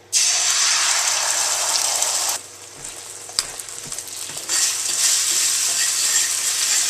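Eggs scramble in a regular steel pan on residual heat after the fire is off, a loud bright sizzle that dips for about two seconds while a utensil taps and scrapes, then surges back.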